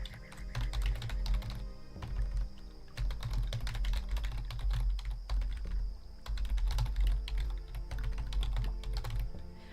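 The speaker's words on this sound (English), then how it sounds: "I keep accidentally typing gob instead of bog." Rapid, uneven keyboard typing with bursts of closely spaced clicks, near and steady throughout, broken by a few short pauses.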